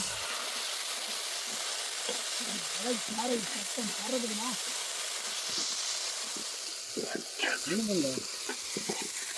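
Steady sizzling of chopped karpooravalli (Indian borage) leaves dropped into hot oil, a constant crackling hiss with someone talking over it throughout.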